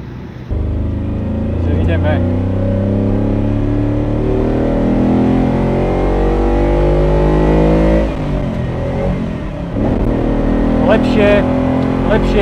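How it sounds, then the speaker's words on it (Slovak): An older car's engine on a test drive revs and climbs through the gears, with throttle blips on the downshifts. The sound is loud and close, with rising and falling engine notes and brief dips between shifts. "najlepšie je radiť cez medziplyn. Krajšie nám skáče tá rýchlosť do kulisy."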